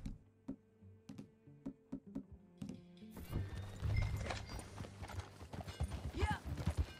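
Clip-clop of horse hooves while riding in the video game Red Dead Redemption 2, a steady trot of rhythmic hoofbeats that thickens into a busier gallop with an occasional whinny under game ambience.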